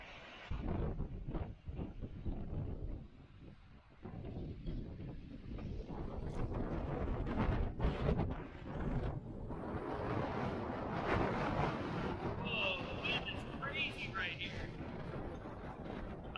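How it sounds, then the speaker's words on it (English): Strong wind roaring across a cliff edge in the Utah backcountry, a loud, constant buffeting rush against the microphone with a voice under it. "But listen at the wind up here."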